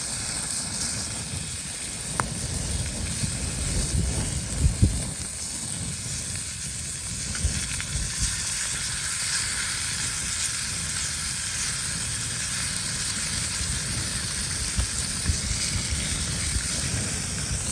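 Winter steelhead fillets sizzle and hiss steadily in butter over a small outdoor campfire, a continuous close frying crackle with a few sharp pops and light stirring sounds.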